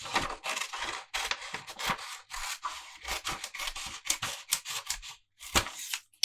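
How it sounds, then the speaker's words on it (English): Scissors snip through a paper grid for a knitting project in a run of quick, crisp cuts with short pauses between them, close and fairly quiet. "So you just want to grab some scissors and cut out"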